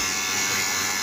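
Steady electric hum and buzz of a vacuum pump running during R134a refrigerant gas charging, continuous and fairly loud with no pauses.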